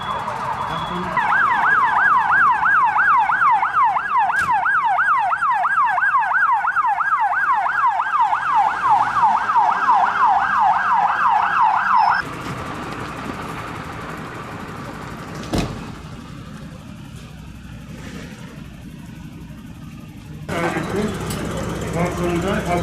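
A fire engine siren wails loudly and close during a hospital fire drill in Malatya, rapid rising-and-falling cycles running for about twelve seconds before cutting off, followed by quieter ambient noise and a few thumps.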